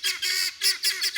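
Guinea fowl give harsh, rapid cries while a playful dog chases them, several loud squawks close together in quick bursts with short gaps.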